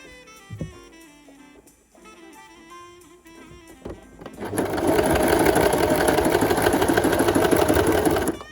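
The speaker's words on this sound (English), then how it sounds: "we are gonna line them all up and then do a straight stitch all along" A sewing machine runs a long straight stitch through denim while making a bucket hat from old jeans. A quieter, tonal passage comes first, then a loud, steady whirring run fills the second half.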